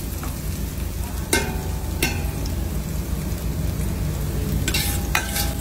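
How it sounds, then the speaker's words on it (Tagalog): Garlic frying in hot cooking oil in a pot, a steady close sizzle with a few sharp utensil clicks and scrapes against the pot. "Naglagay siya ng mantika sa kaserola. Nung mainit na, inilagay na niya yung bawang."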